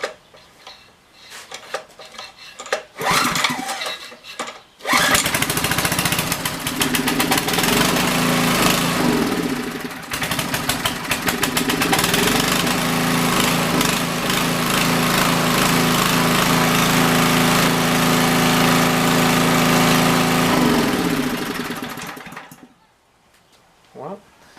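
Portable generator with a power output fault, its small engine sputtering on a few brief attempts before catching and running loud and steady for about twenty seconds, then shutting off, with rattling and handling noise around it.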